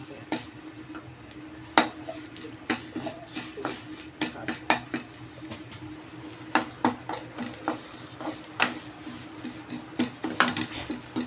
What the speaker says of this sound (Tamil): கருவேப்பிலையும் நல்லா பொரியட்டும்பா. எண்ணெய் எதுக்குமே ஊற்றக்கூடாது.